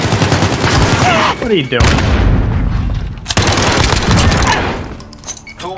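Rapid gunfire and heavy booms from the video game Modern Warfare fill a loud, dense firefight, with bursts cutting in and out while players talk over the action.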